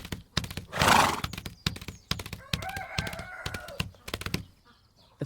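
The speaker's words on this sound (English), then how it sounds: "Look at Rosie the horse. He loves to run free and feel the wind and rain." On a farm, a horse lets out a long, wavering whinny that rises and falls for about a second, close and clear amid sharp clip-clop hoof knocks and a burst of rustling noise.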